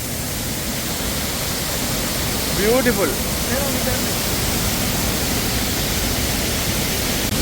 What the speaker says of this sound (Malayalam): ആ ഒരു വാട്ടർഫോൾസിനെ നമ്മളിപ്പോൾ അടുത്ത് കാണുവാണ്